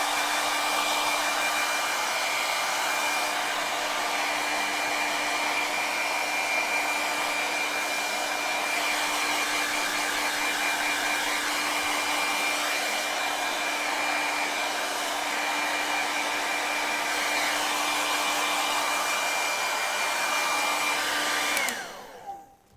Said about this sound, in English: I'm going to use the hair dryer for a second.